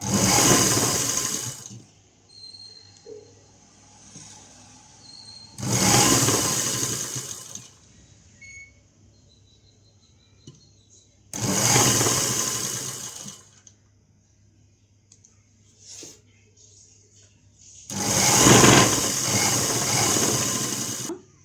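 A sewing machine stitching a baby frock runs in four loud, steady bursts of a couple of seconds each, separated by quiet pauses with faint handling noises.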